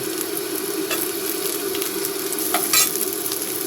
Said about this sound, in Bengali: রসুন কুচি দিচ্ছি, একটু পেঁয়াজ কুচি আর রসুন কুচি দিচ্ছি